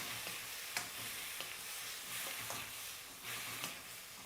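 Light soy sauce sizzling into stir-fried chow mein noodles, a faint steady hiss with occasional clicks and scrapes from stirring, heard without any talk.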